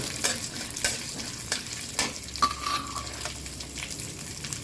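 Dried red chillies and spices fry and sizzle in hot oil in a pan for tempering, a spoon stirring and tapping against the pan every second or so.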